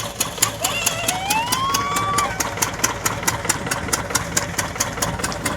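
A tractor engine idles nearby with a steady rapid knocking chug, while a faint high whistling tone rises and holds briefly over the running motor.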